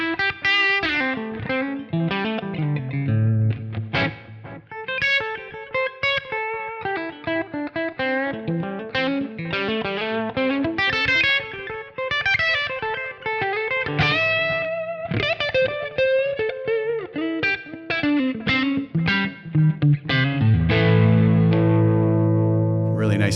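Electric guitar played through a Kemper amp profiler with effects, a clean, bright tone with chords and melodic runs, ringing out steadily and fairly loud, ending on sustained chords.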